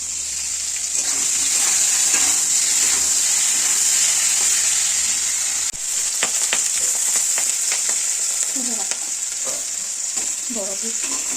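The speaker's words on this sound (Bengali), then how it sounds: "এই যে মাছ ভাজা হয়ে গেছে" Jeol fish frying in hot oil in a home kitchen, a loud continuous sizzle with crackling spatters and a few clattering stirs over several seconds.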